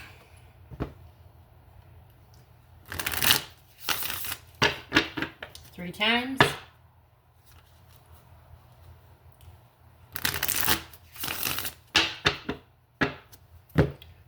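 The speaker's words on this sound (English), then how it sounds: "we're going to go ahead and shuffle these" Bursts of tarot card shuffling come in three quick clusters, crisp riffling rattles separated by short pauses, with a voice speaking briefly in between.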